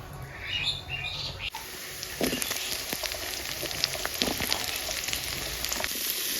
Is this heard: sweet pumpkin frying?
yes